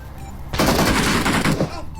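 Rapid automatic gunfire in a video game, a loud, close burst of fast shots lasting about a second, then trailing off into quieter sounds.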